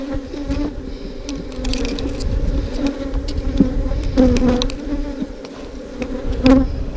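Bees in a hive box being inspected, some trying to sting a small hive beetle: a dense close buzzing hum with rising and falling pitch, plus occasional light knocks and taps.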